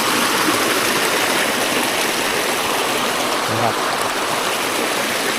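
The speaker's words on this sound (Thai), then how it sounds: "ปล่อยน้ำออกให้มันไหลนะครับ" Water released from a rice field, flowing in a steady, loud, close rushing wash that continues without a break.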